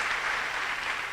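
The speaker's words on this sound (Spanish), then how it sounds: "Dele un fuerte aplauso a nuestro Dios" A church congregation claps during a service, a short dense burst of applause heard steadily throughout, moderately faint and without speech.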